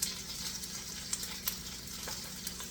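Lamb shanks browning in a pan give a steady, quiet, close sizzle with a couple of faint pops or utensil taps, and no one speaking.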